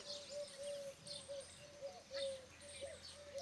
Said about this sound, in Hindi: यहाँ सभी पक्षियों का कलरव बहुत सुखद प्रतीत होता है।